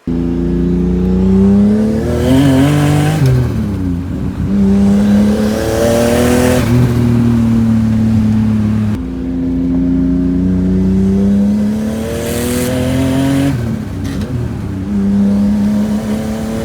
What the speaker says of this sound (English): here's a quick couple of videos of me driving on the street doing a couple of pulls